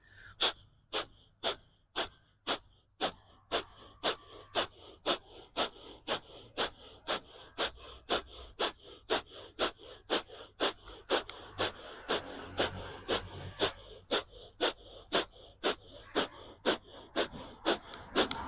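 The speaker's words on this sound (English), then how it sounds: "begin the Kapalbhati breathing" Kapalbhati yogic breathing: a long, steady series of sharp, forceful nasal exhalations, about two per second, close and loud, each a short huffing puff over a faint background hum.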